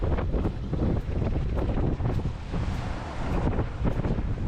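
Steady wind buffets a microphone outdoors on a sailboat, a continuous rough rushing with gusty swells, like breezy open water.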